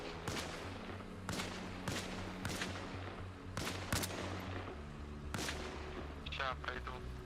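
Machine gun nest firing in an online war shooter game, with distant bursts and sharp gunshots scattered across the battlefield alongside artillery-like booms, and a player talking over the noise.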